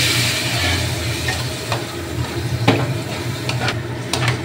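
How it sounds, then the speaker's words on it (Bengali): Kashmiri chili powder masala with a splash of water is stirred in a hot pan, giving a steady sizzle broken by scraping strokes, close and fairly loud, with no voices. "আর দিয়ে দেবো কাশ্মীরি লঙ্কার গুঁড়ো, একটু নাড়াচাড়া করে নেব। অল্প একটু জল দিয়ে দেবো"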